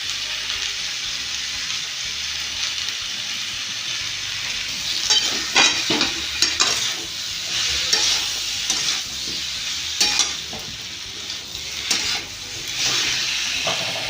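Mixed vegetables fry in a pan with a steady, close sizzle, while a utensil stirs them in repeated scraping strokes that grow busier midway, with no voices.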